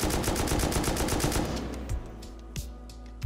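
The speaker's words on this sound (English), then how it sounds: "I'm going to show you guys the M249, which I believe has a different recoil pattern if you are standing or crouching, since it's an LMG" M249 light machine gun in the video game Rust, a rapid burst of about twenty evenly spaced shots from a standing position, loud and close, followed by a few scattered single shots.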